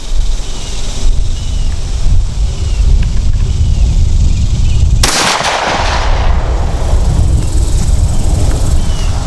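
A single loud, sharp shotgun blast firing a Twister slug during an outdoor accuracy test, standing out against steady wind rumble that runs before and after it.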